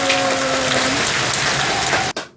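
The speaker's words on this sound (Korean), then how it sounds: "박수!" Applause from an exercise class group at the end of a stretching and vascular-health session, a dense steady patter of many hands lasting about two seconds before cutting off abruptly.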